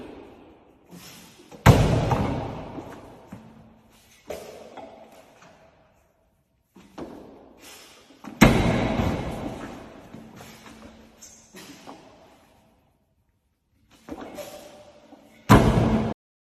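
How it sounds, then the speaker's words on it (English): A 350 kg (771 lb) deadlift barbell in Ireland is pulled and set down, giving heavy, booming thuds at intervals, with rattling plates and lighter knocks trailing off between the larger impacts. "we join Pete Bremner out in Ireland, pulling 350 kilos or 771 pounds"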